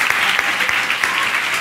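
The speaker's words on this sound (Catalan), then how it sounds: "Un fort aplaudiment per la Zara!" Dense, close applause from a crowd, a steady patter of many hands clapping without pause.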